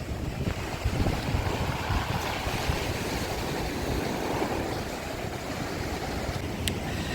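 Steady wash of sea waves on a beach at Arcadia, Odesa, mixed with wind buffeting the microphone, continuous and fairly loud with no voices.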